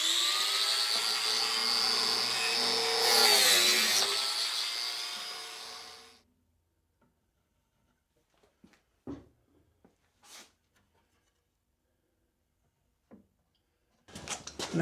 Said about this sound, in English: I've made marks where the biscuits will go, and I'll just cut those now